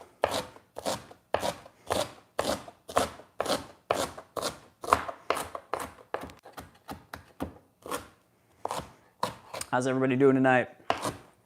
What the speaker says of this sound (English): I'm just going to finely chop it.